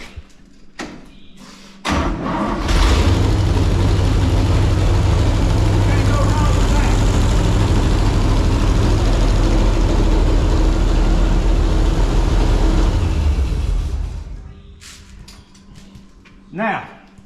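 A 1968 GMC truck with new parts cranks and fires, settling into a loud, steady idle that runs for about twelve seconds before shutting off, with a few thumps and short bits of talk before and after.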